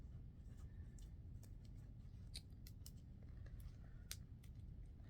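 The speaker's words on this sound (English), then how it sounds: "using scissors to cut this plastic piece" Scissors snipping through plastic Barbie doll packaging, a scattered series of faint, sharp close clicks and cuts at an uneven rhythm over a low room hum.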